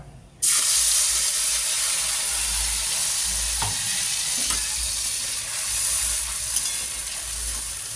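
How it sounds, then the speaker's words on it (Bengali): Nigella seeds and a paste of mustard, melon seeds, green chilli, salt and turmeric dropped into hot oil for a pomfret fish curry: a sudden loud hiss bursts in, then sustains as a steady sizzle with light stirring. "তেলের ওপরে প্রথমে হচ্ছে কালো জিরে ফোড়ন দেবো, দিয়ে দিলাম"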